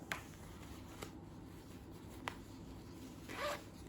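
A zipper on a small carrying case for a DJI Mic Mini is pulled open in a few short, crisp bursts spread over several seconds, close and fairly quiet, with no talking.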